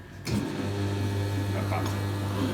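A Whoopee ice cream machine runs in wash mode with a steady, loud motor hum that starts abruptly after a brief pause and holds constant throughout.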